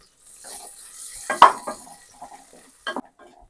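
Chopped onion dropped into hot oil in a pan gives a light sizzle, with a few sharp spoon-on-pan clanks and scrapes as it is stirred, loudest around the middle and again near the end.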